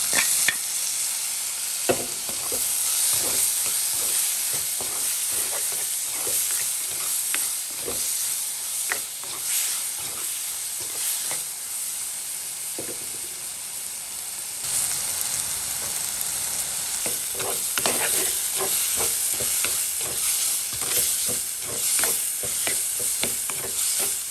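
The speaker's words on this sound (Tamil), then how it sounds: "தக்காளி பழம் வெங்காயம் எல்லாம் நல்லா வதக்கிட்டுக்கு" Onions, fenugreek and tomatoes sauté in a pan in a village home kitchen, a constant hissing sizzle punctuated by repeated rhythmic scrapes and knocks of a stirring spoon, close and loud, with no talk.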